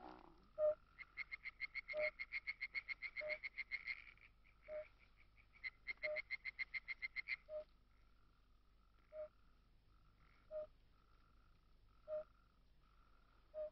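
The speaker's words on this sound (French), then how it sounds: "j'entends les vocalises d'un crapaud" A toad by a lake trills and croaks in bursts of rapid pulses, then gives single evenly spaced calls, fairly close and alone in a quiet night.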